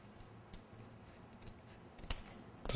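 Scissors cutting folded filter paper, quiet and close, a few short crisp snips spaced out over a couple of seconds with faint background hiss.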